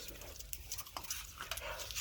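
Dog whimpering at feeding time outdoors in hot, humid weather, soft high whines and snuffling repeated over a couple of seconds, close by, with a low rumble of background noise.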